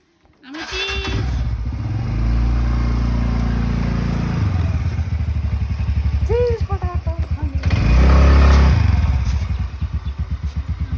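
A motorcycle engine idles and revs up close by, with a rapid chugging exhaust rhythm and a louder surge near the end; brief bleat-like sounds in between.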